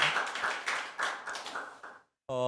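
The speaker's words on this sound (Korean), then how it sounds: "우리 다시 한 번 더 박수로 감사해 주시기" Hands clap for about two seconds at a Korean church seminar, a thinning round of applause from a small audience that stops abruptly, then a voice starts speaking.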